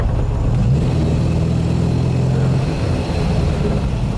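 A 1974 MGB-GT with a manual gearbox drives along, its engine droning low and steady inside the cabin while it accelerates slightly in gear, loud and continuous with no voices.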